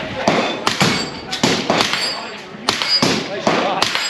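Sig Sauer AR rifle fired on an outdoor range during a SHOT Show 2023 range day, with about eight sharp, loud cracks in an uneven string of shots and voices around them.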